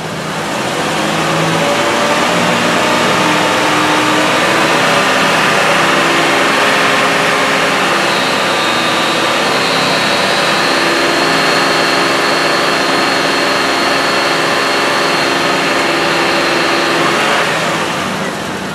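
A car engine is held steady at about 2,000 RPM during an alternator load test, a constant close hum with a faint whining tone that rises partway through, with no talk.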